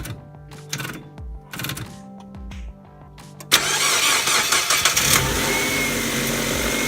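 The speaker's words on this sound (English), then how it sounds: "Then start the car." A Ford/Mazda 626 car engine cranks with a few uneven turns, then catches and settles into a loud, steady idle, heard up close with no talking.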